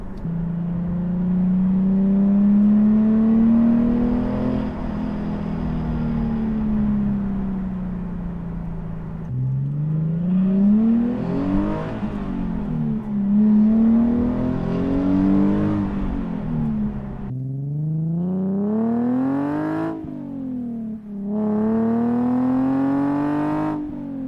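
A Nissan 370Z engine revs hard through a loud ISR single-exit aftermarket exhaust with Y-pipe, climbing and dropping repeatedly, with sharp blips near the end, close and throaty.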